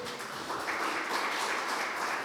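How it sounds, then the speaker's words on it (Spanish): A church congregation applauds the Lord during a Spanish-language sermon, a steady, even wash of many hands clapping that holds at a moderate level for a couple of seconds without pause. "Un aplauso al Señor"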